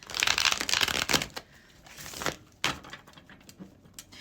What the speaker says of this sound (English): It's so weird that these cards are not like wanting to shuffle.